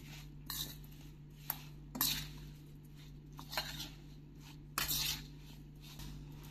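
A spoon mixes spice masala through a pickle of amla pieces and green chillies, making a series of soft scraping and clinking strokes at irregular intervals, faint and close with no talk.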